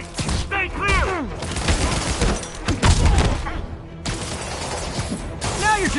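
Gunfire erupts in a Spider-Man video game, bursts of shots and impacts cracking repeatedly through a busy mix while game characters shout and talk over the action.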